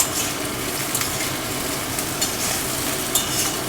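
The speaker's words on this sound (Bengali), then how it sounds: "এবারে আমি প্রথমে আলুগুলো দিয়ে দিচ্ছি। আলুগুলো আগে একটু হালকা বাদামি কালারের ভেজে নেব।" Potato pieces fry in hot oil in a pan for a vegetarian pumpkin and potato curry, a dense, steady crackling sizzle that stays close and loud throughout with faint scrapes.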